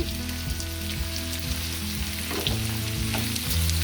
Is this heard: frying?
yes